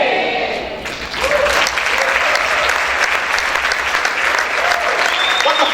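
A church congregation bursts into loud, sustained clapping during a sermon. Scattered shouts and whistles rise over it, and the applause swells after a softer first second.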